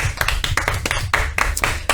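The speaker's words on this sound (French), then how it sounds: "Je pense qu'on peut l'applaudir, c'est sa première." Several people in a radio studio clap together in a lively burst of applause, quick uneven slaps overlapping close by.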